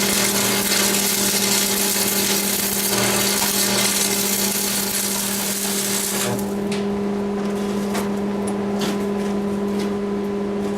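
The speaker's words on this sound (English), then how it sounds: "Okay, now I'm gonna weld this while it's laying on its side." Arc welding on a homemade wood stove laid on its side, a steady loud buzzing crackle with a constant electrical hum running throughout, the tone thinning slightly partway through.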